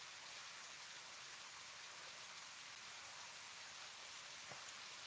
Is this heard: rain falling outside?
yes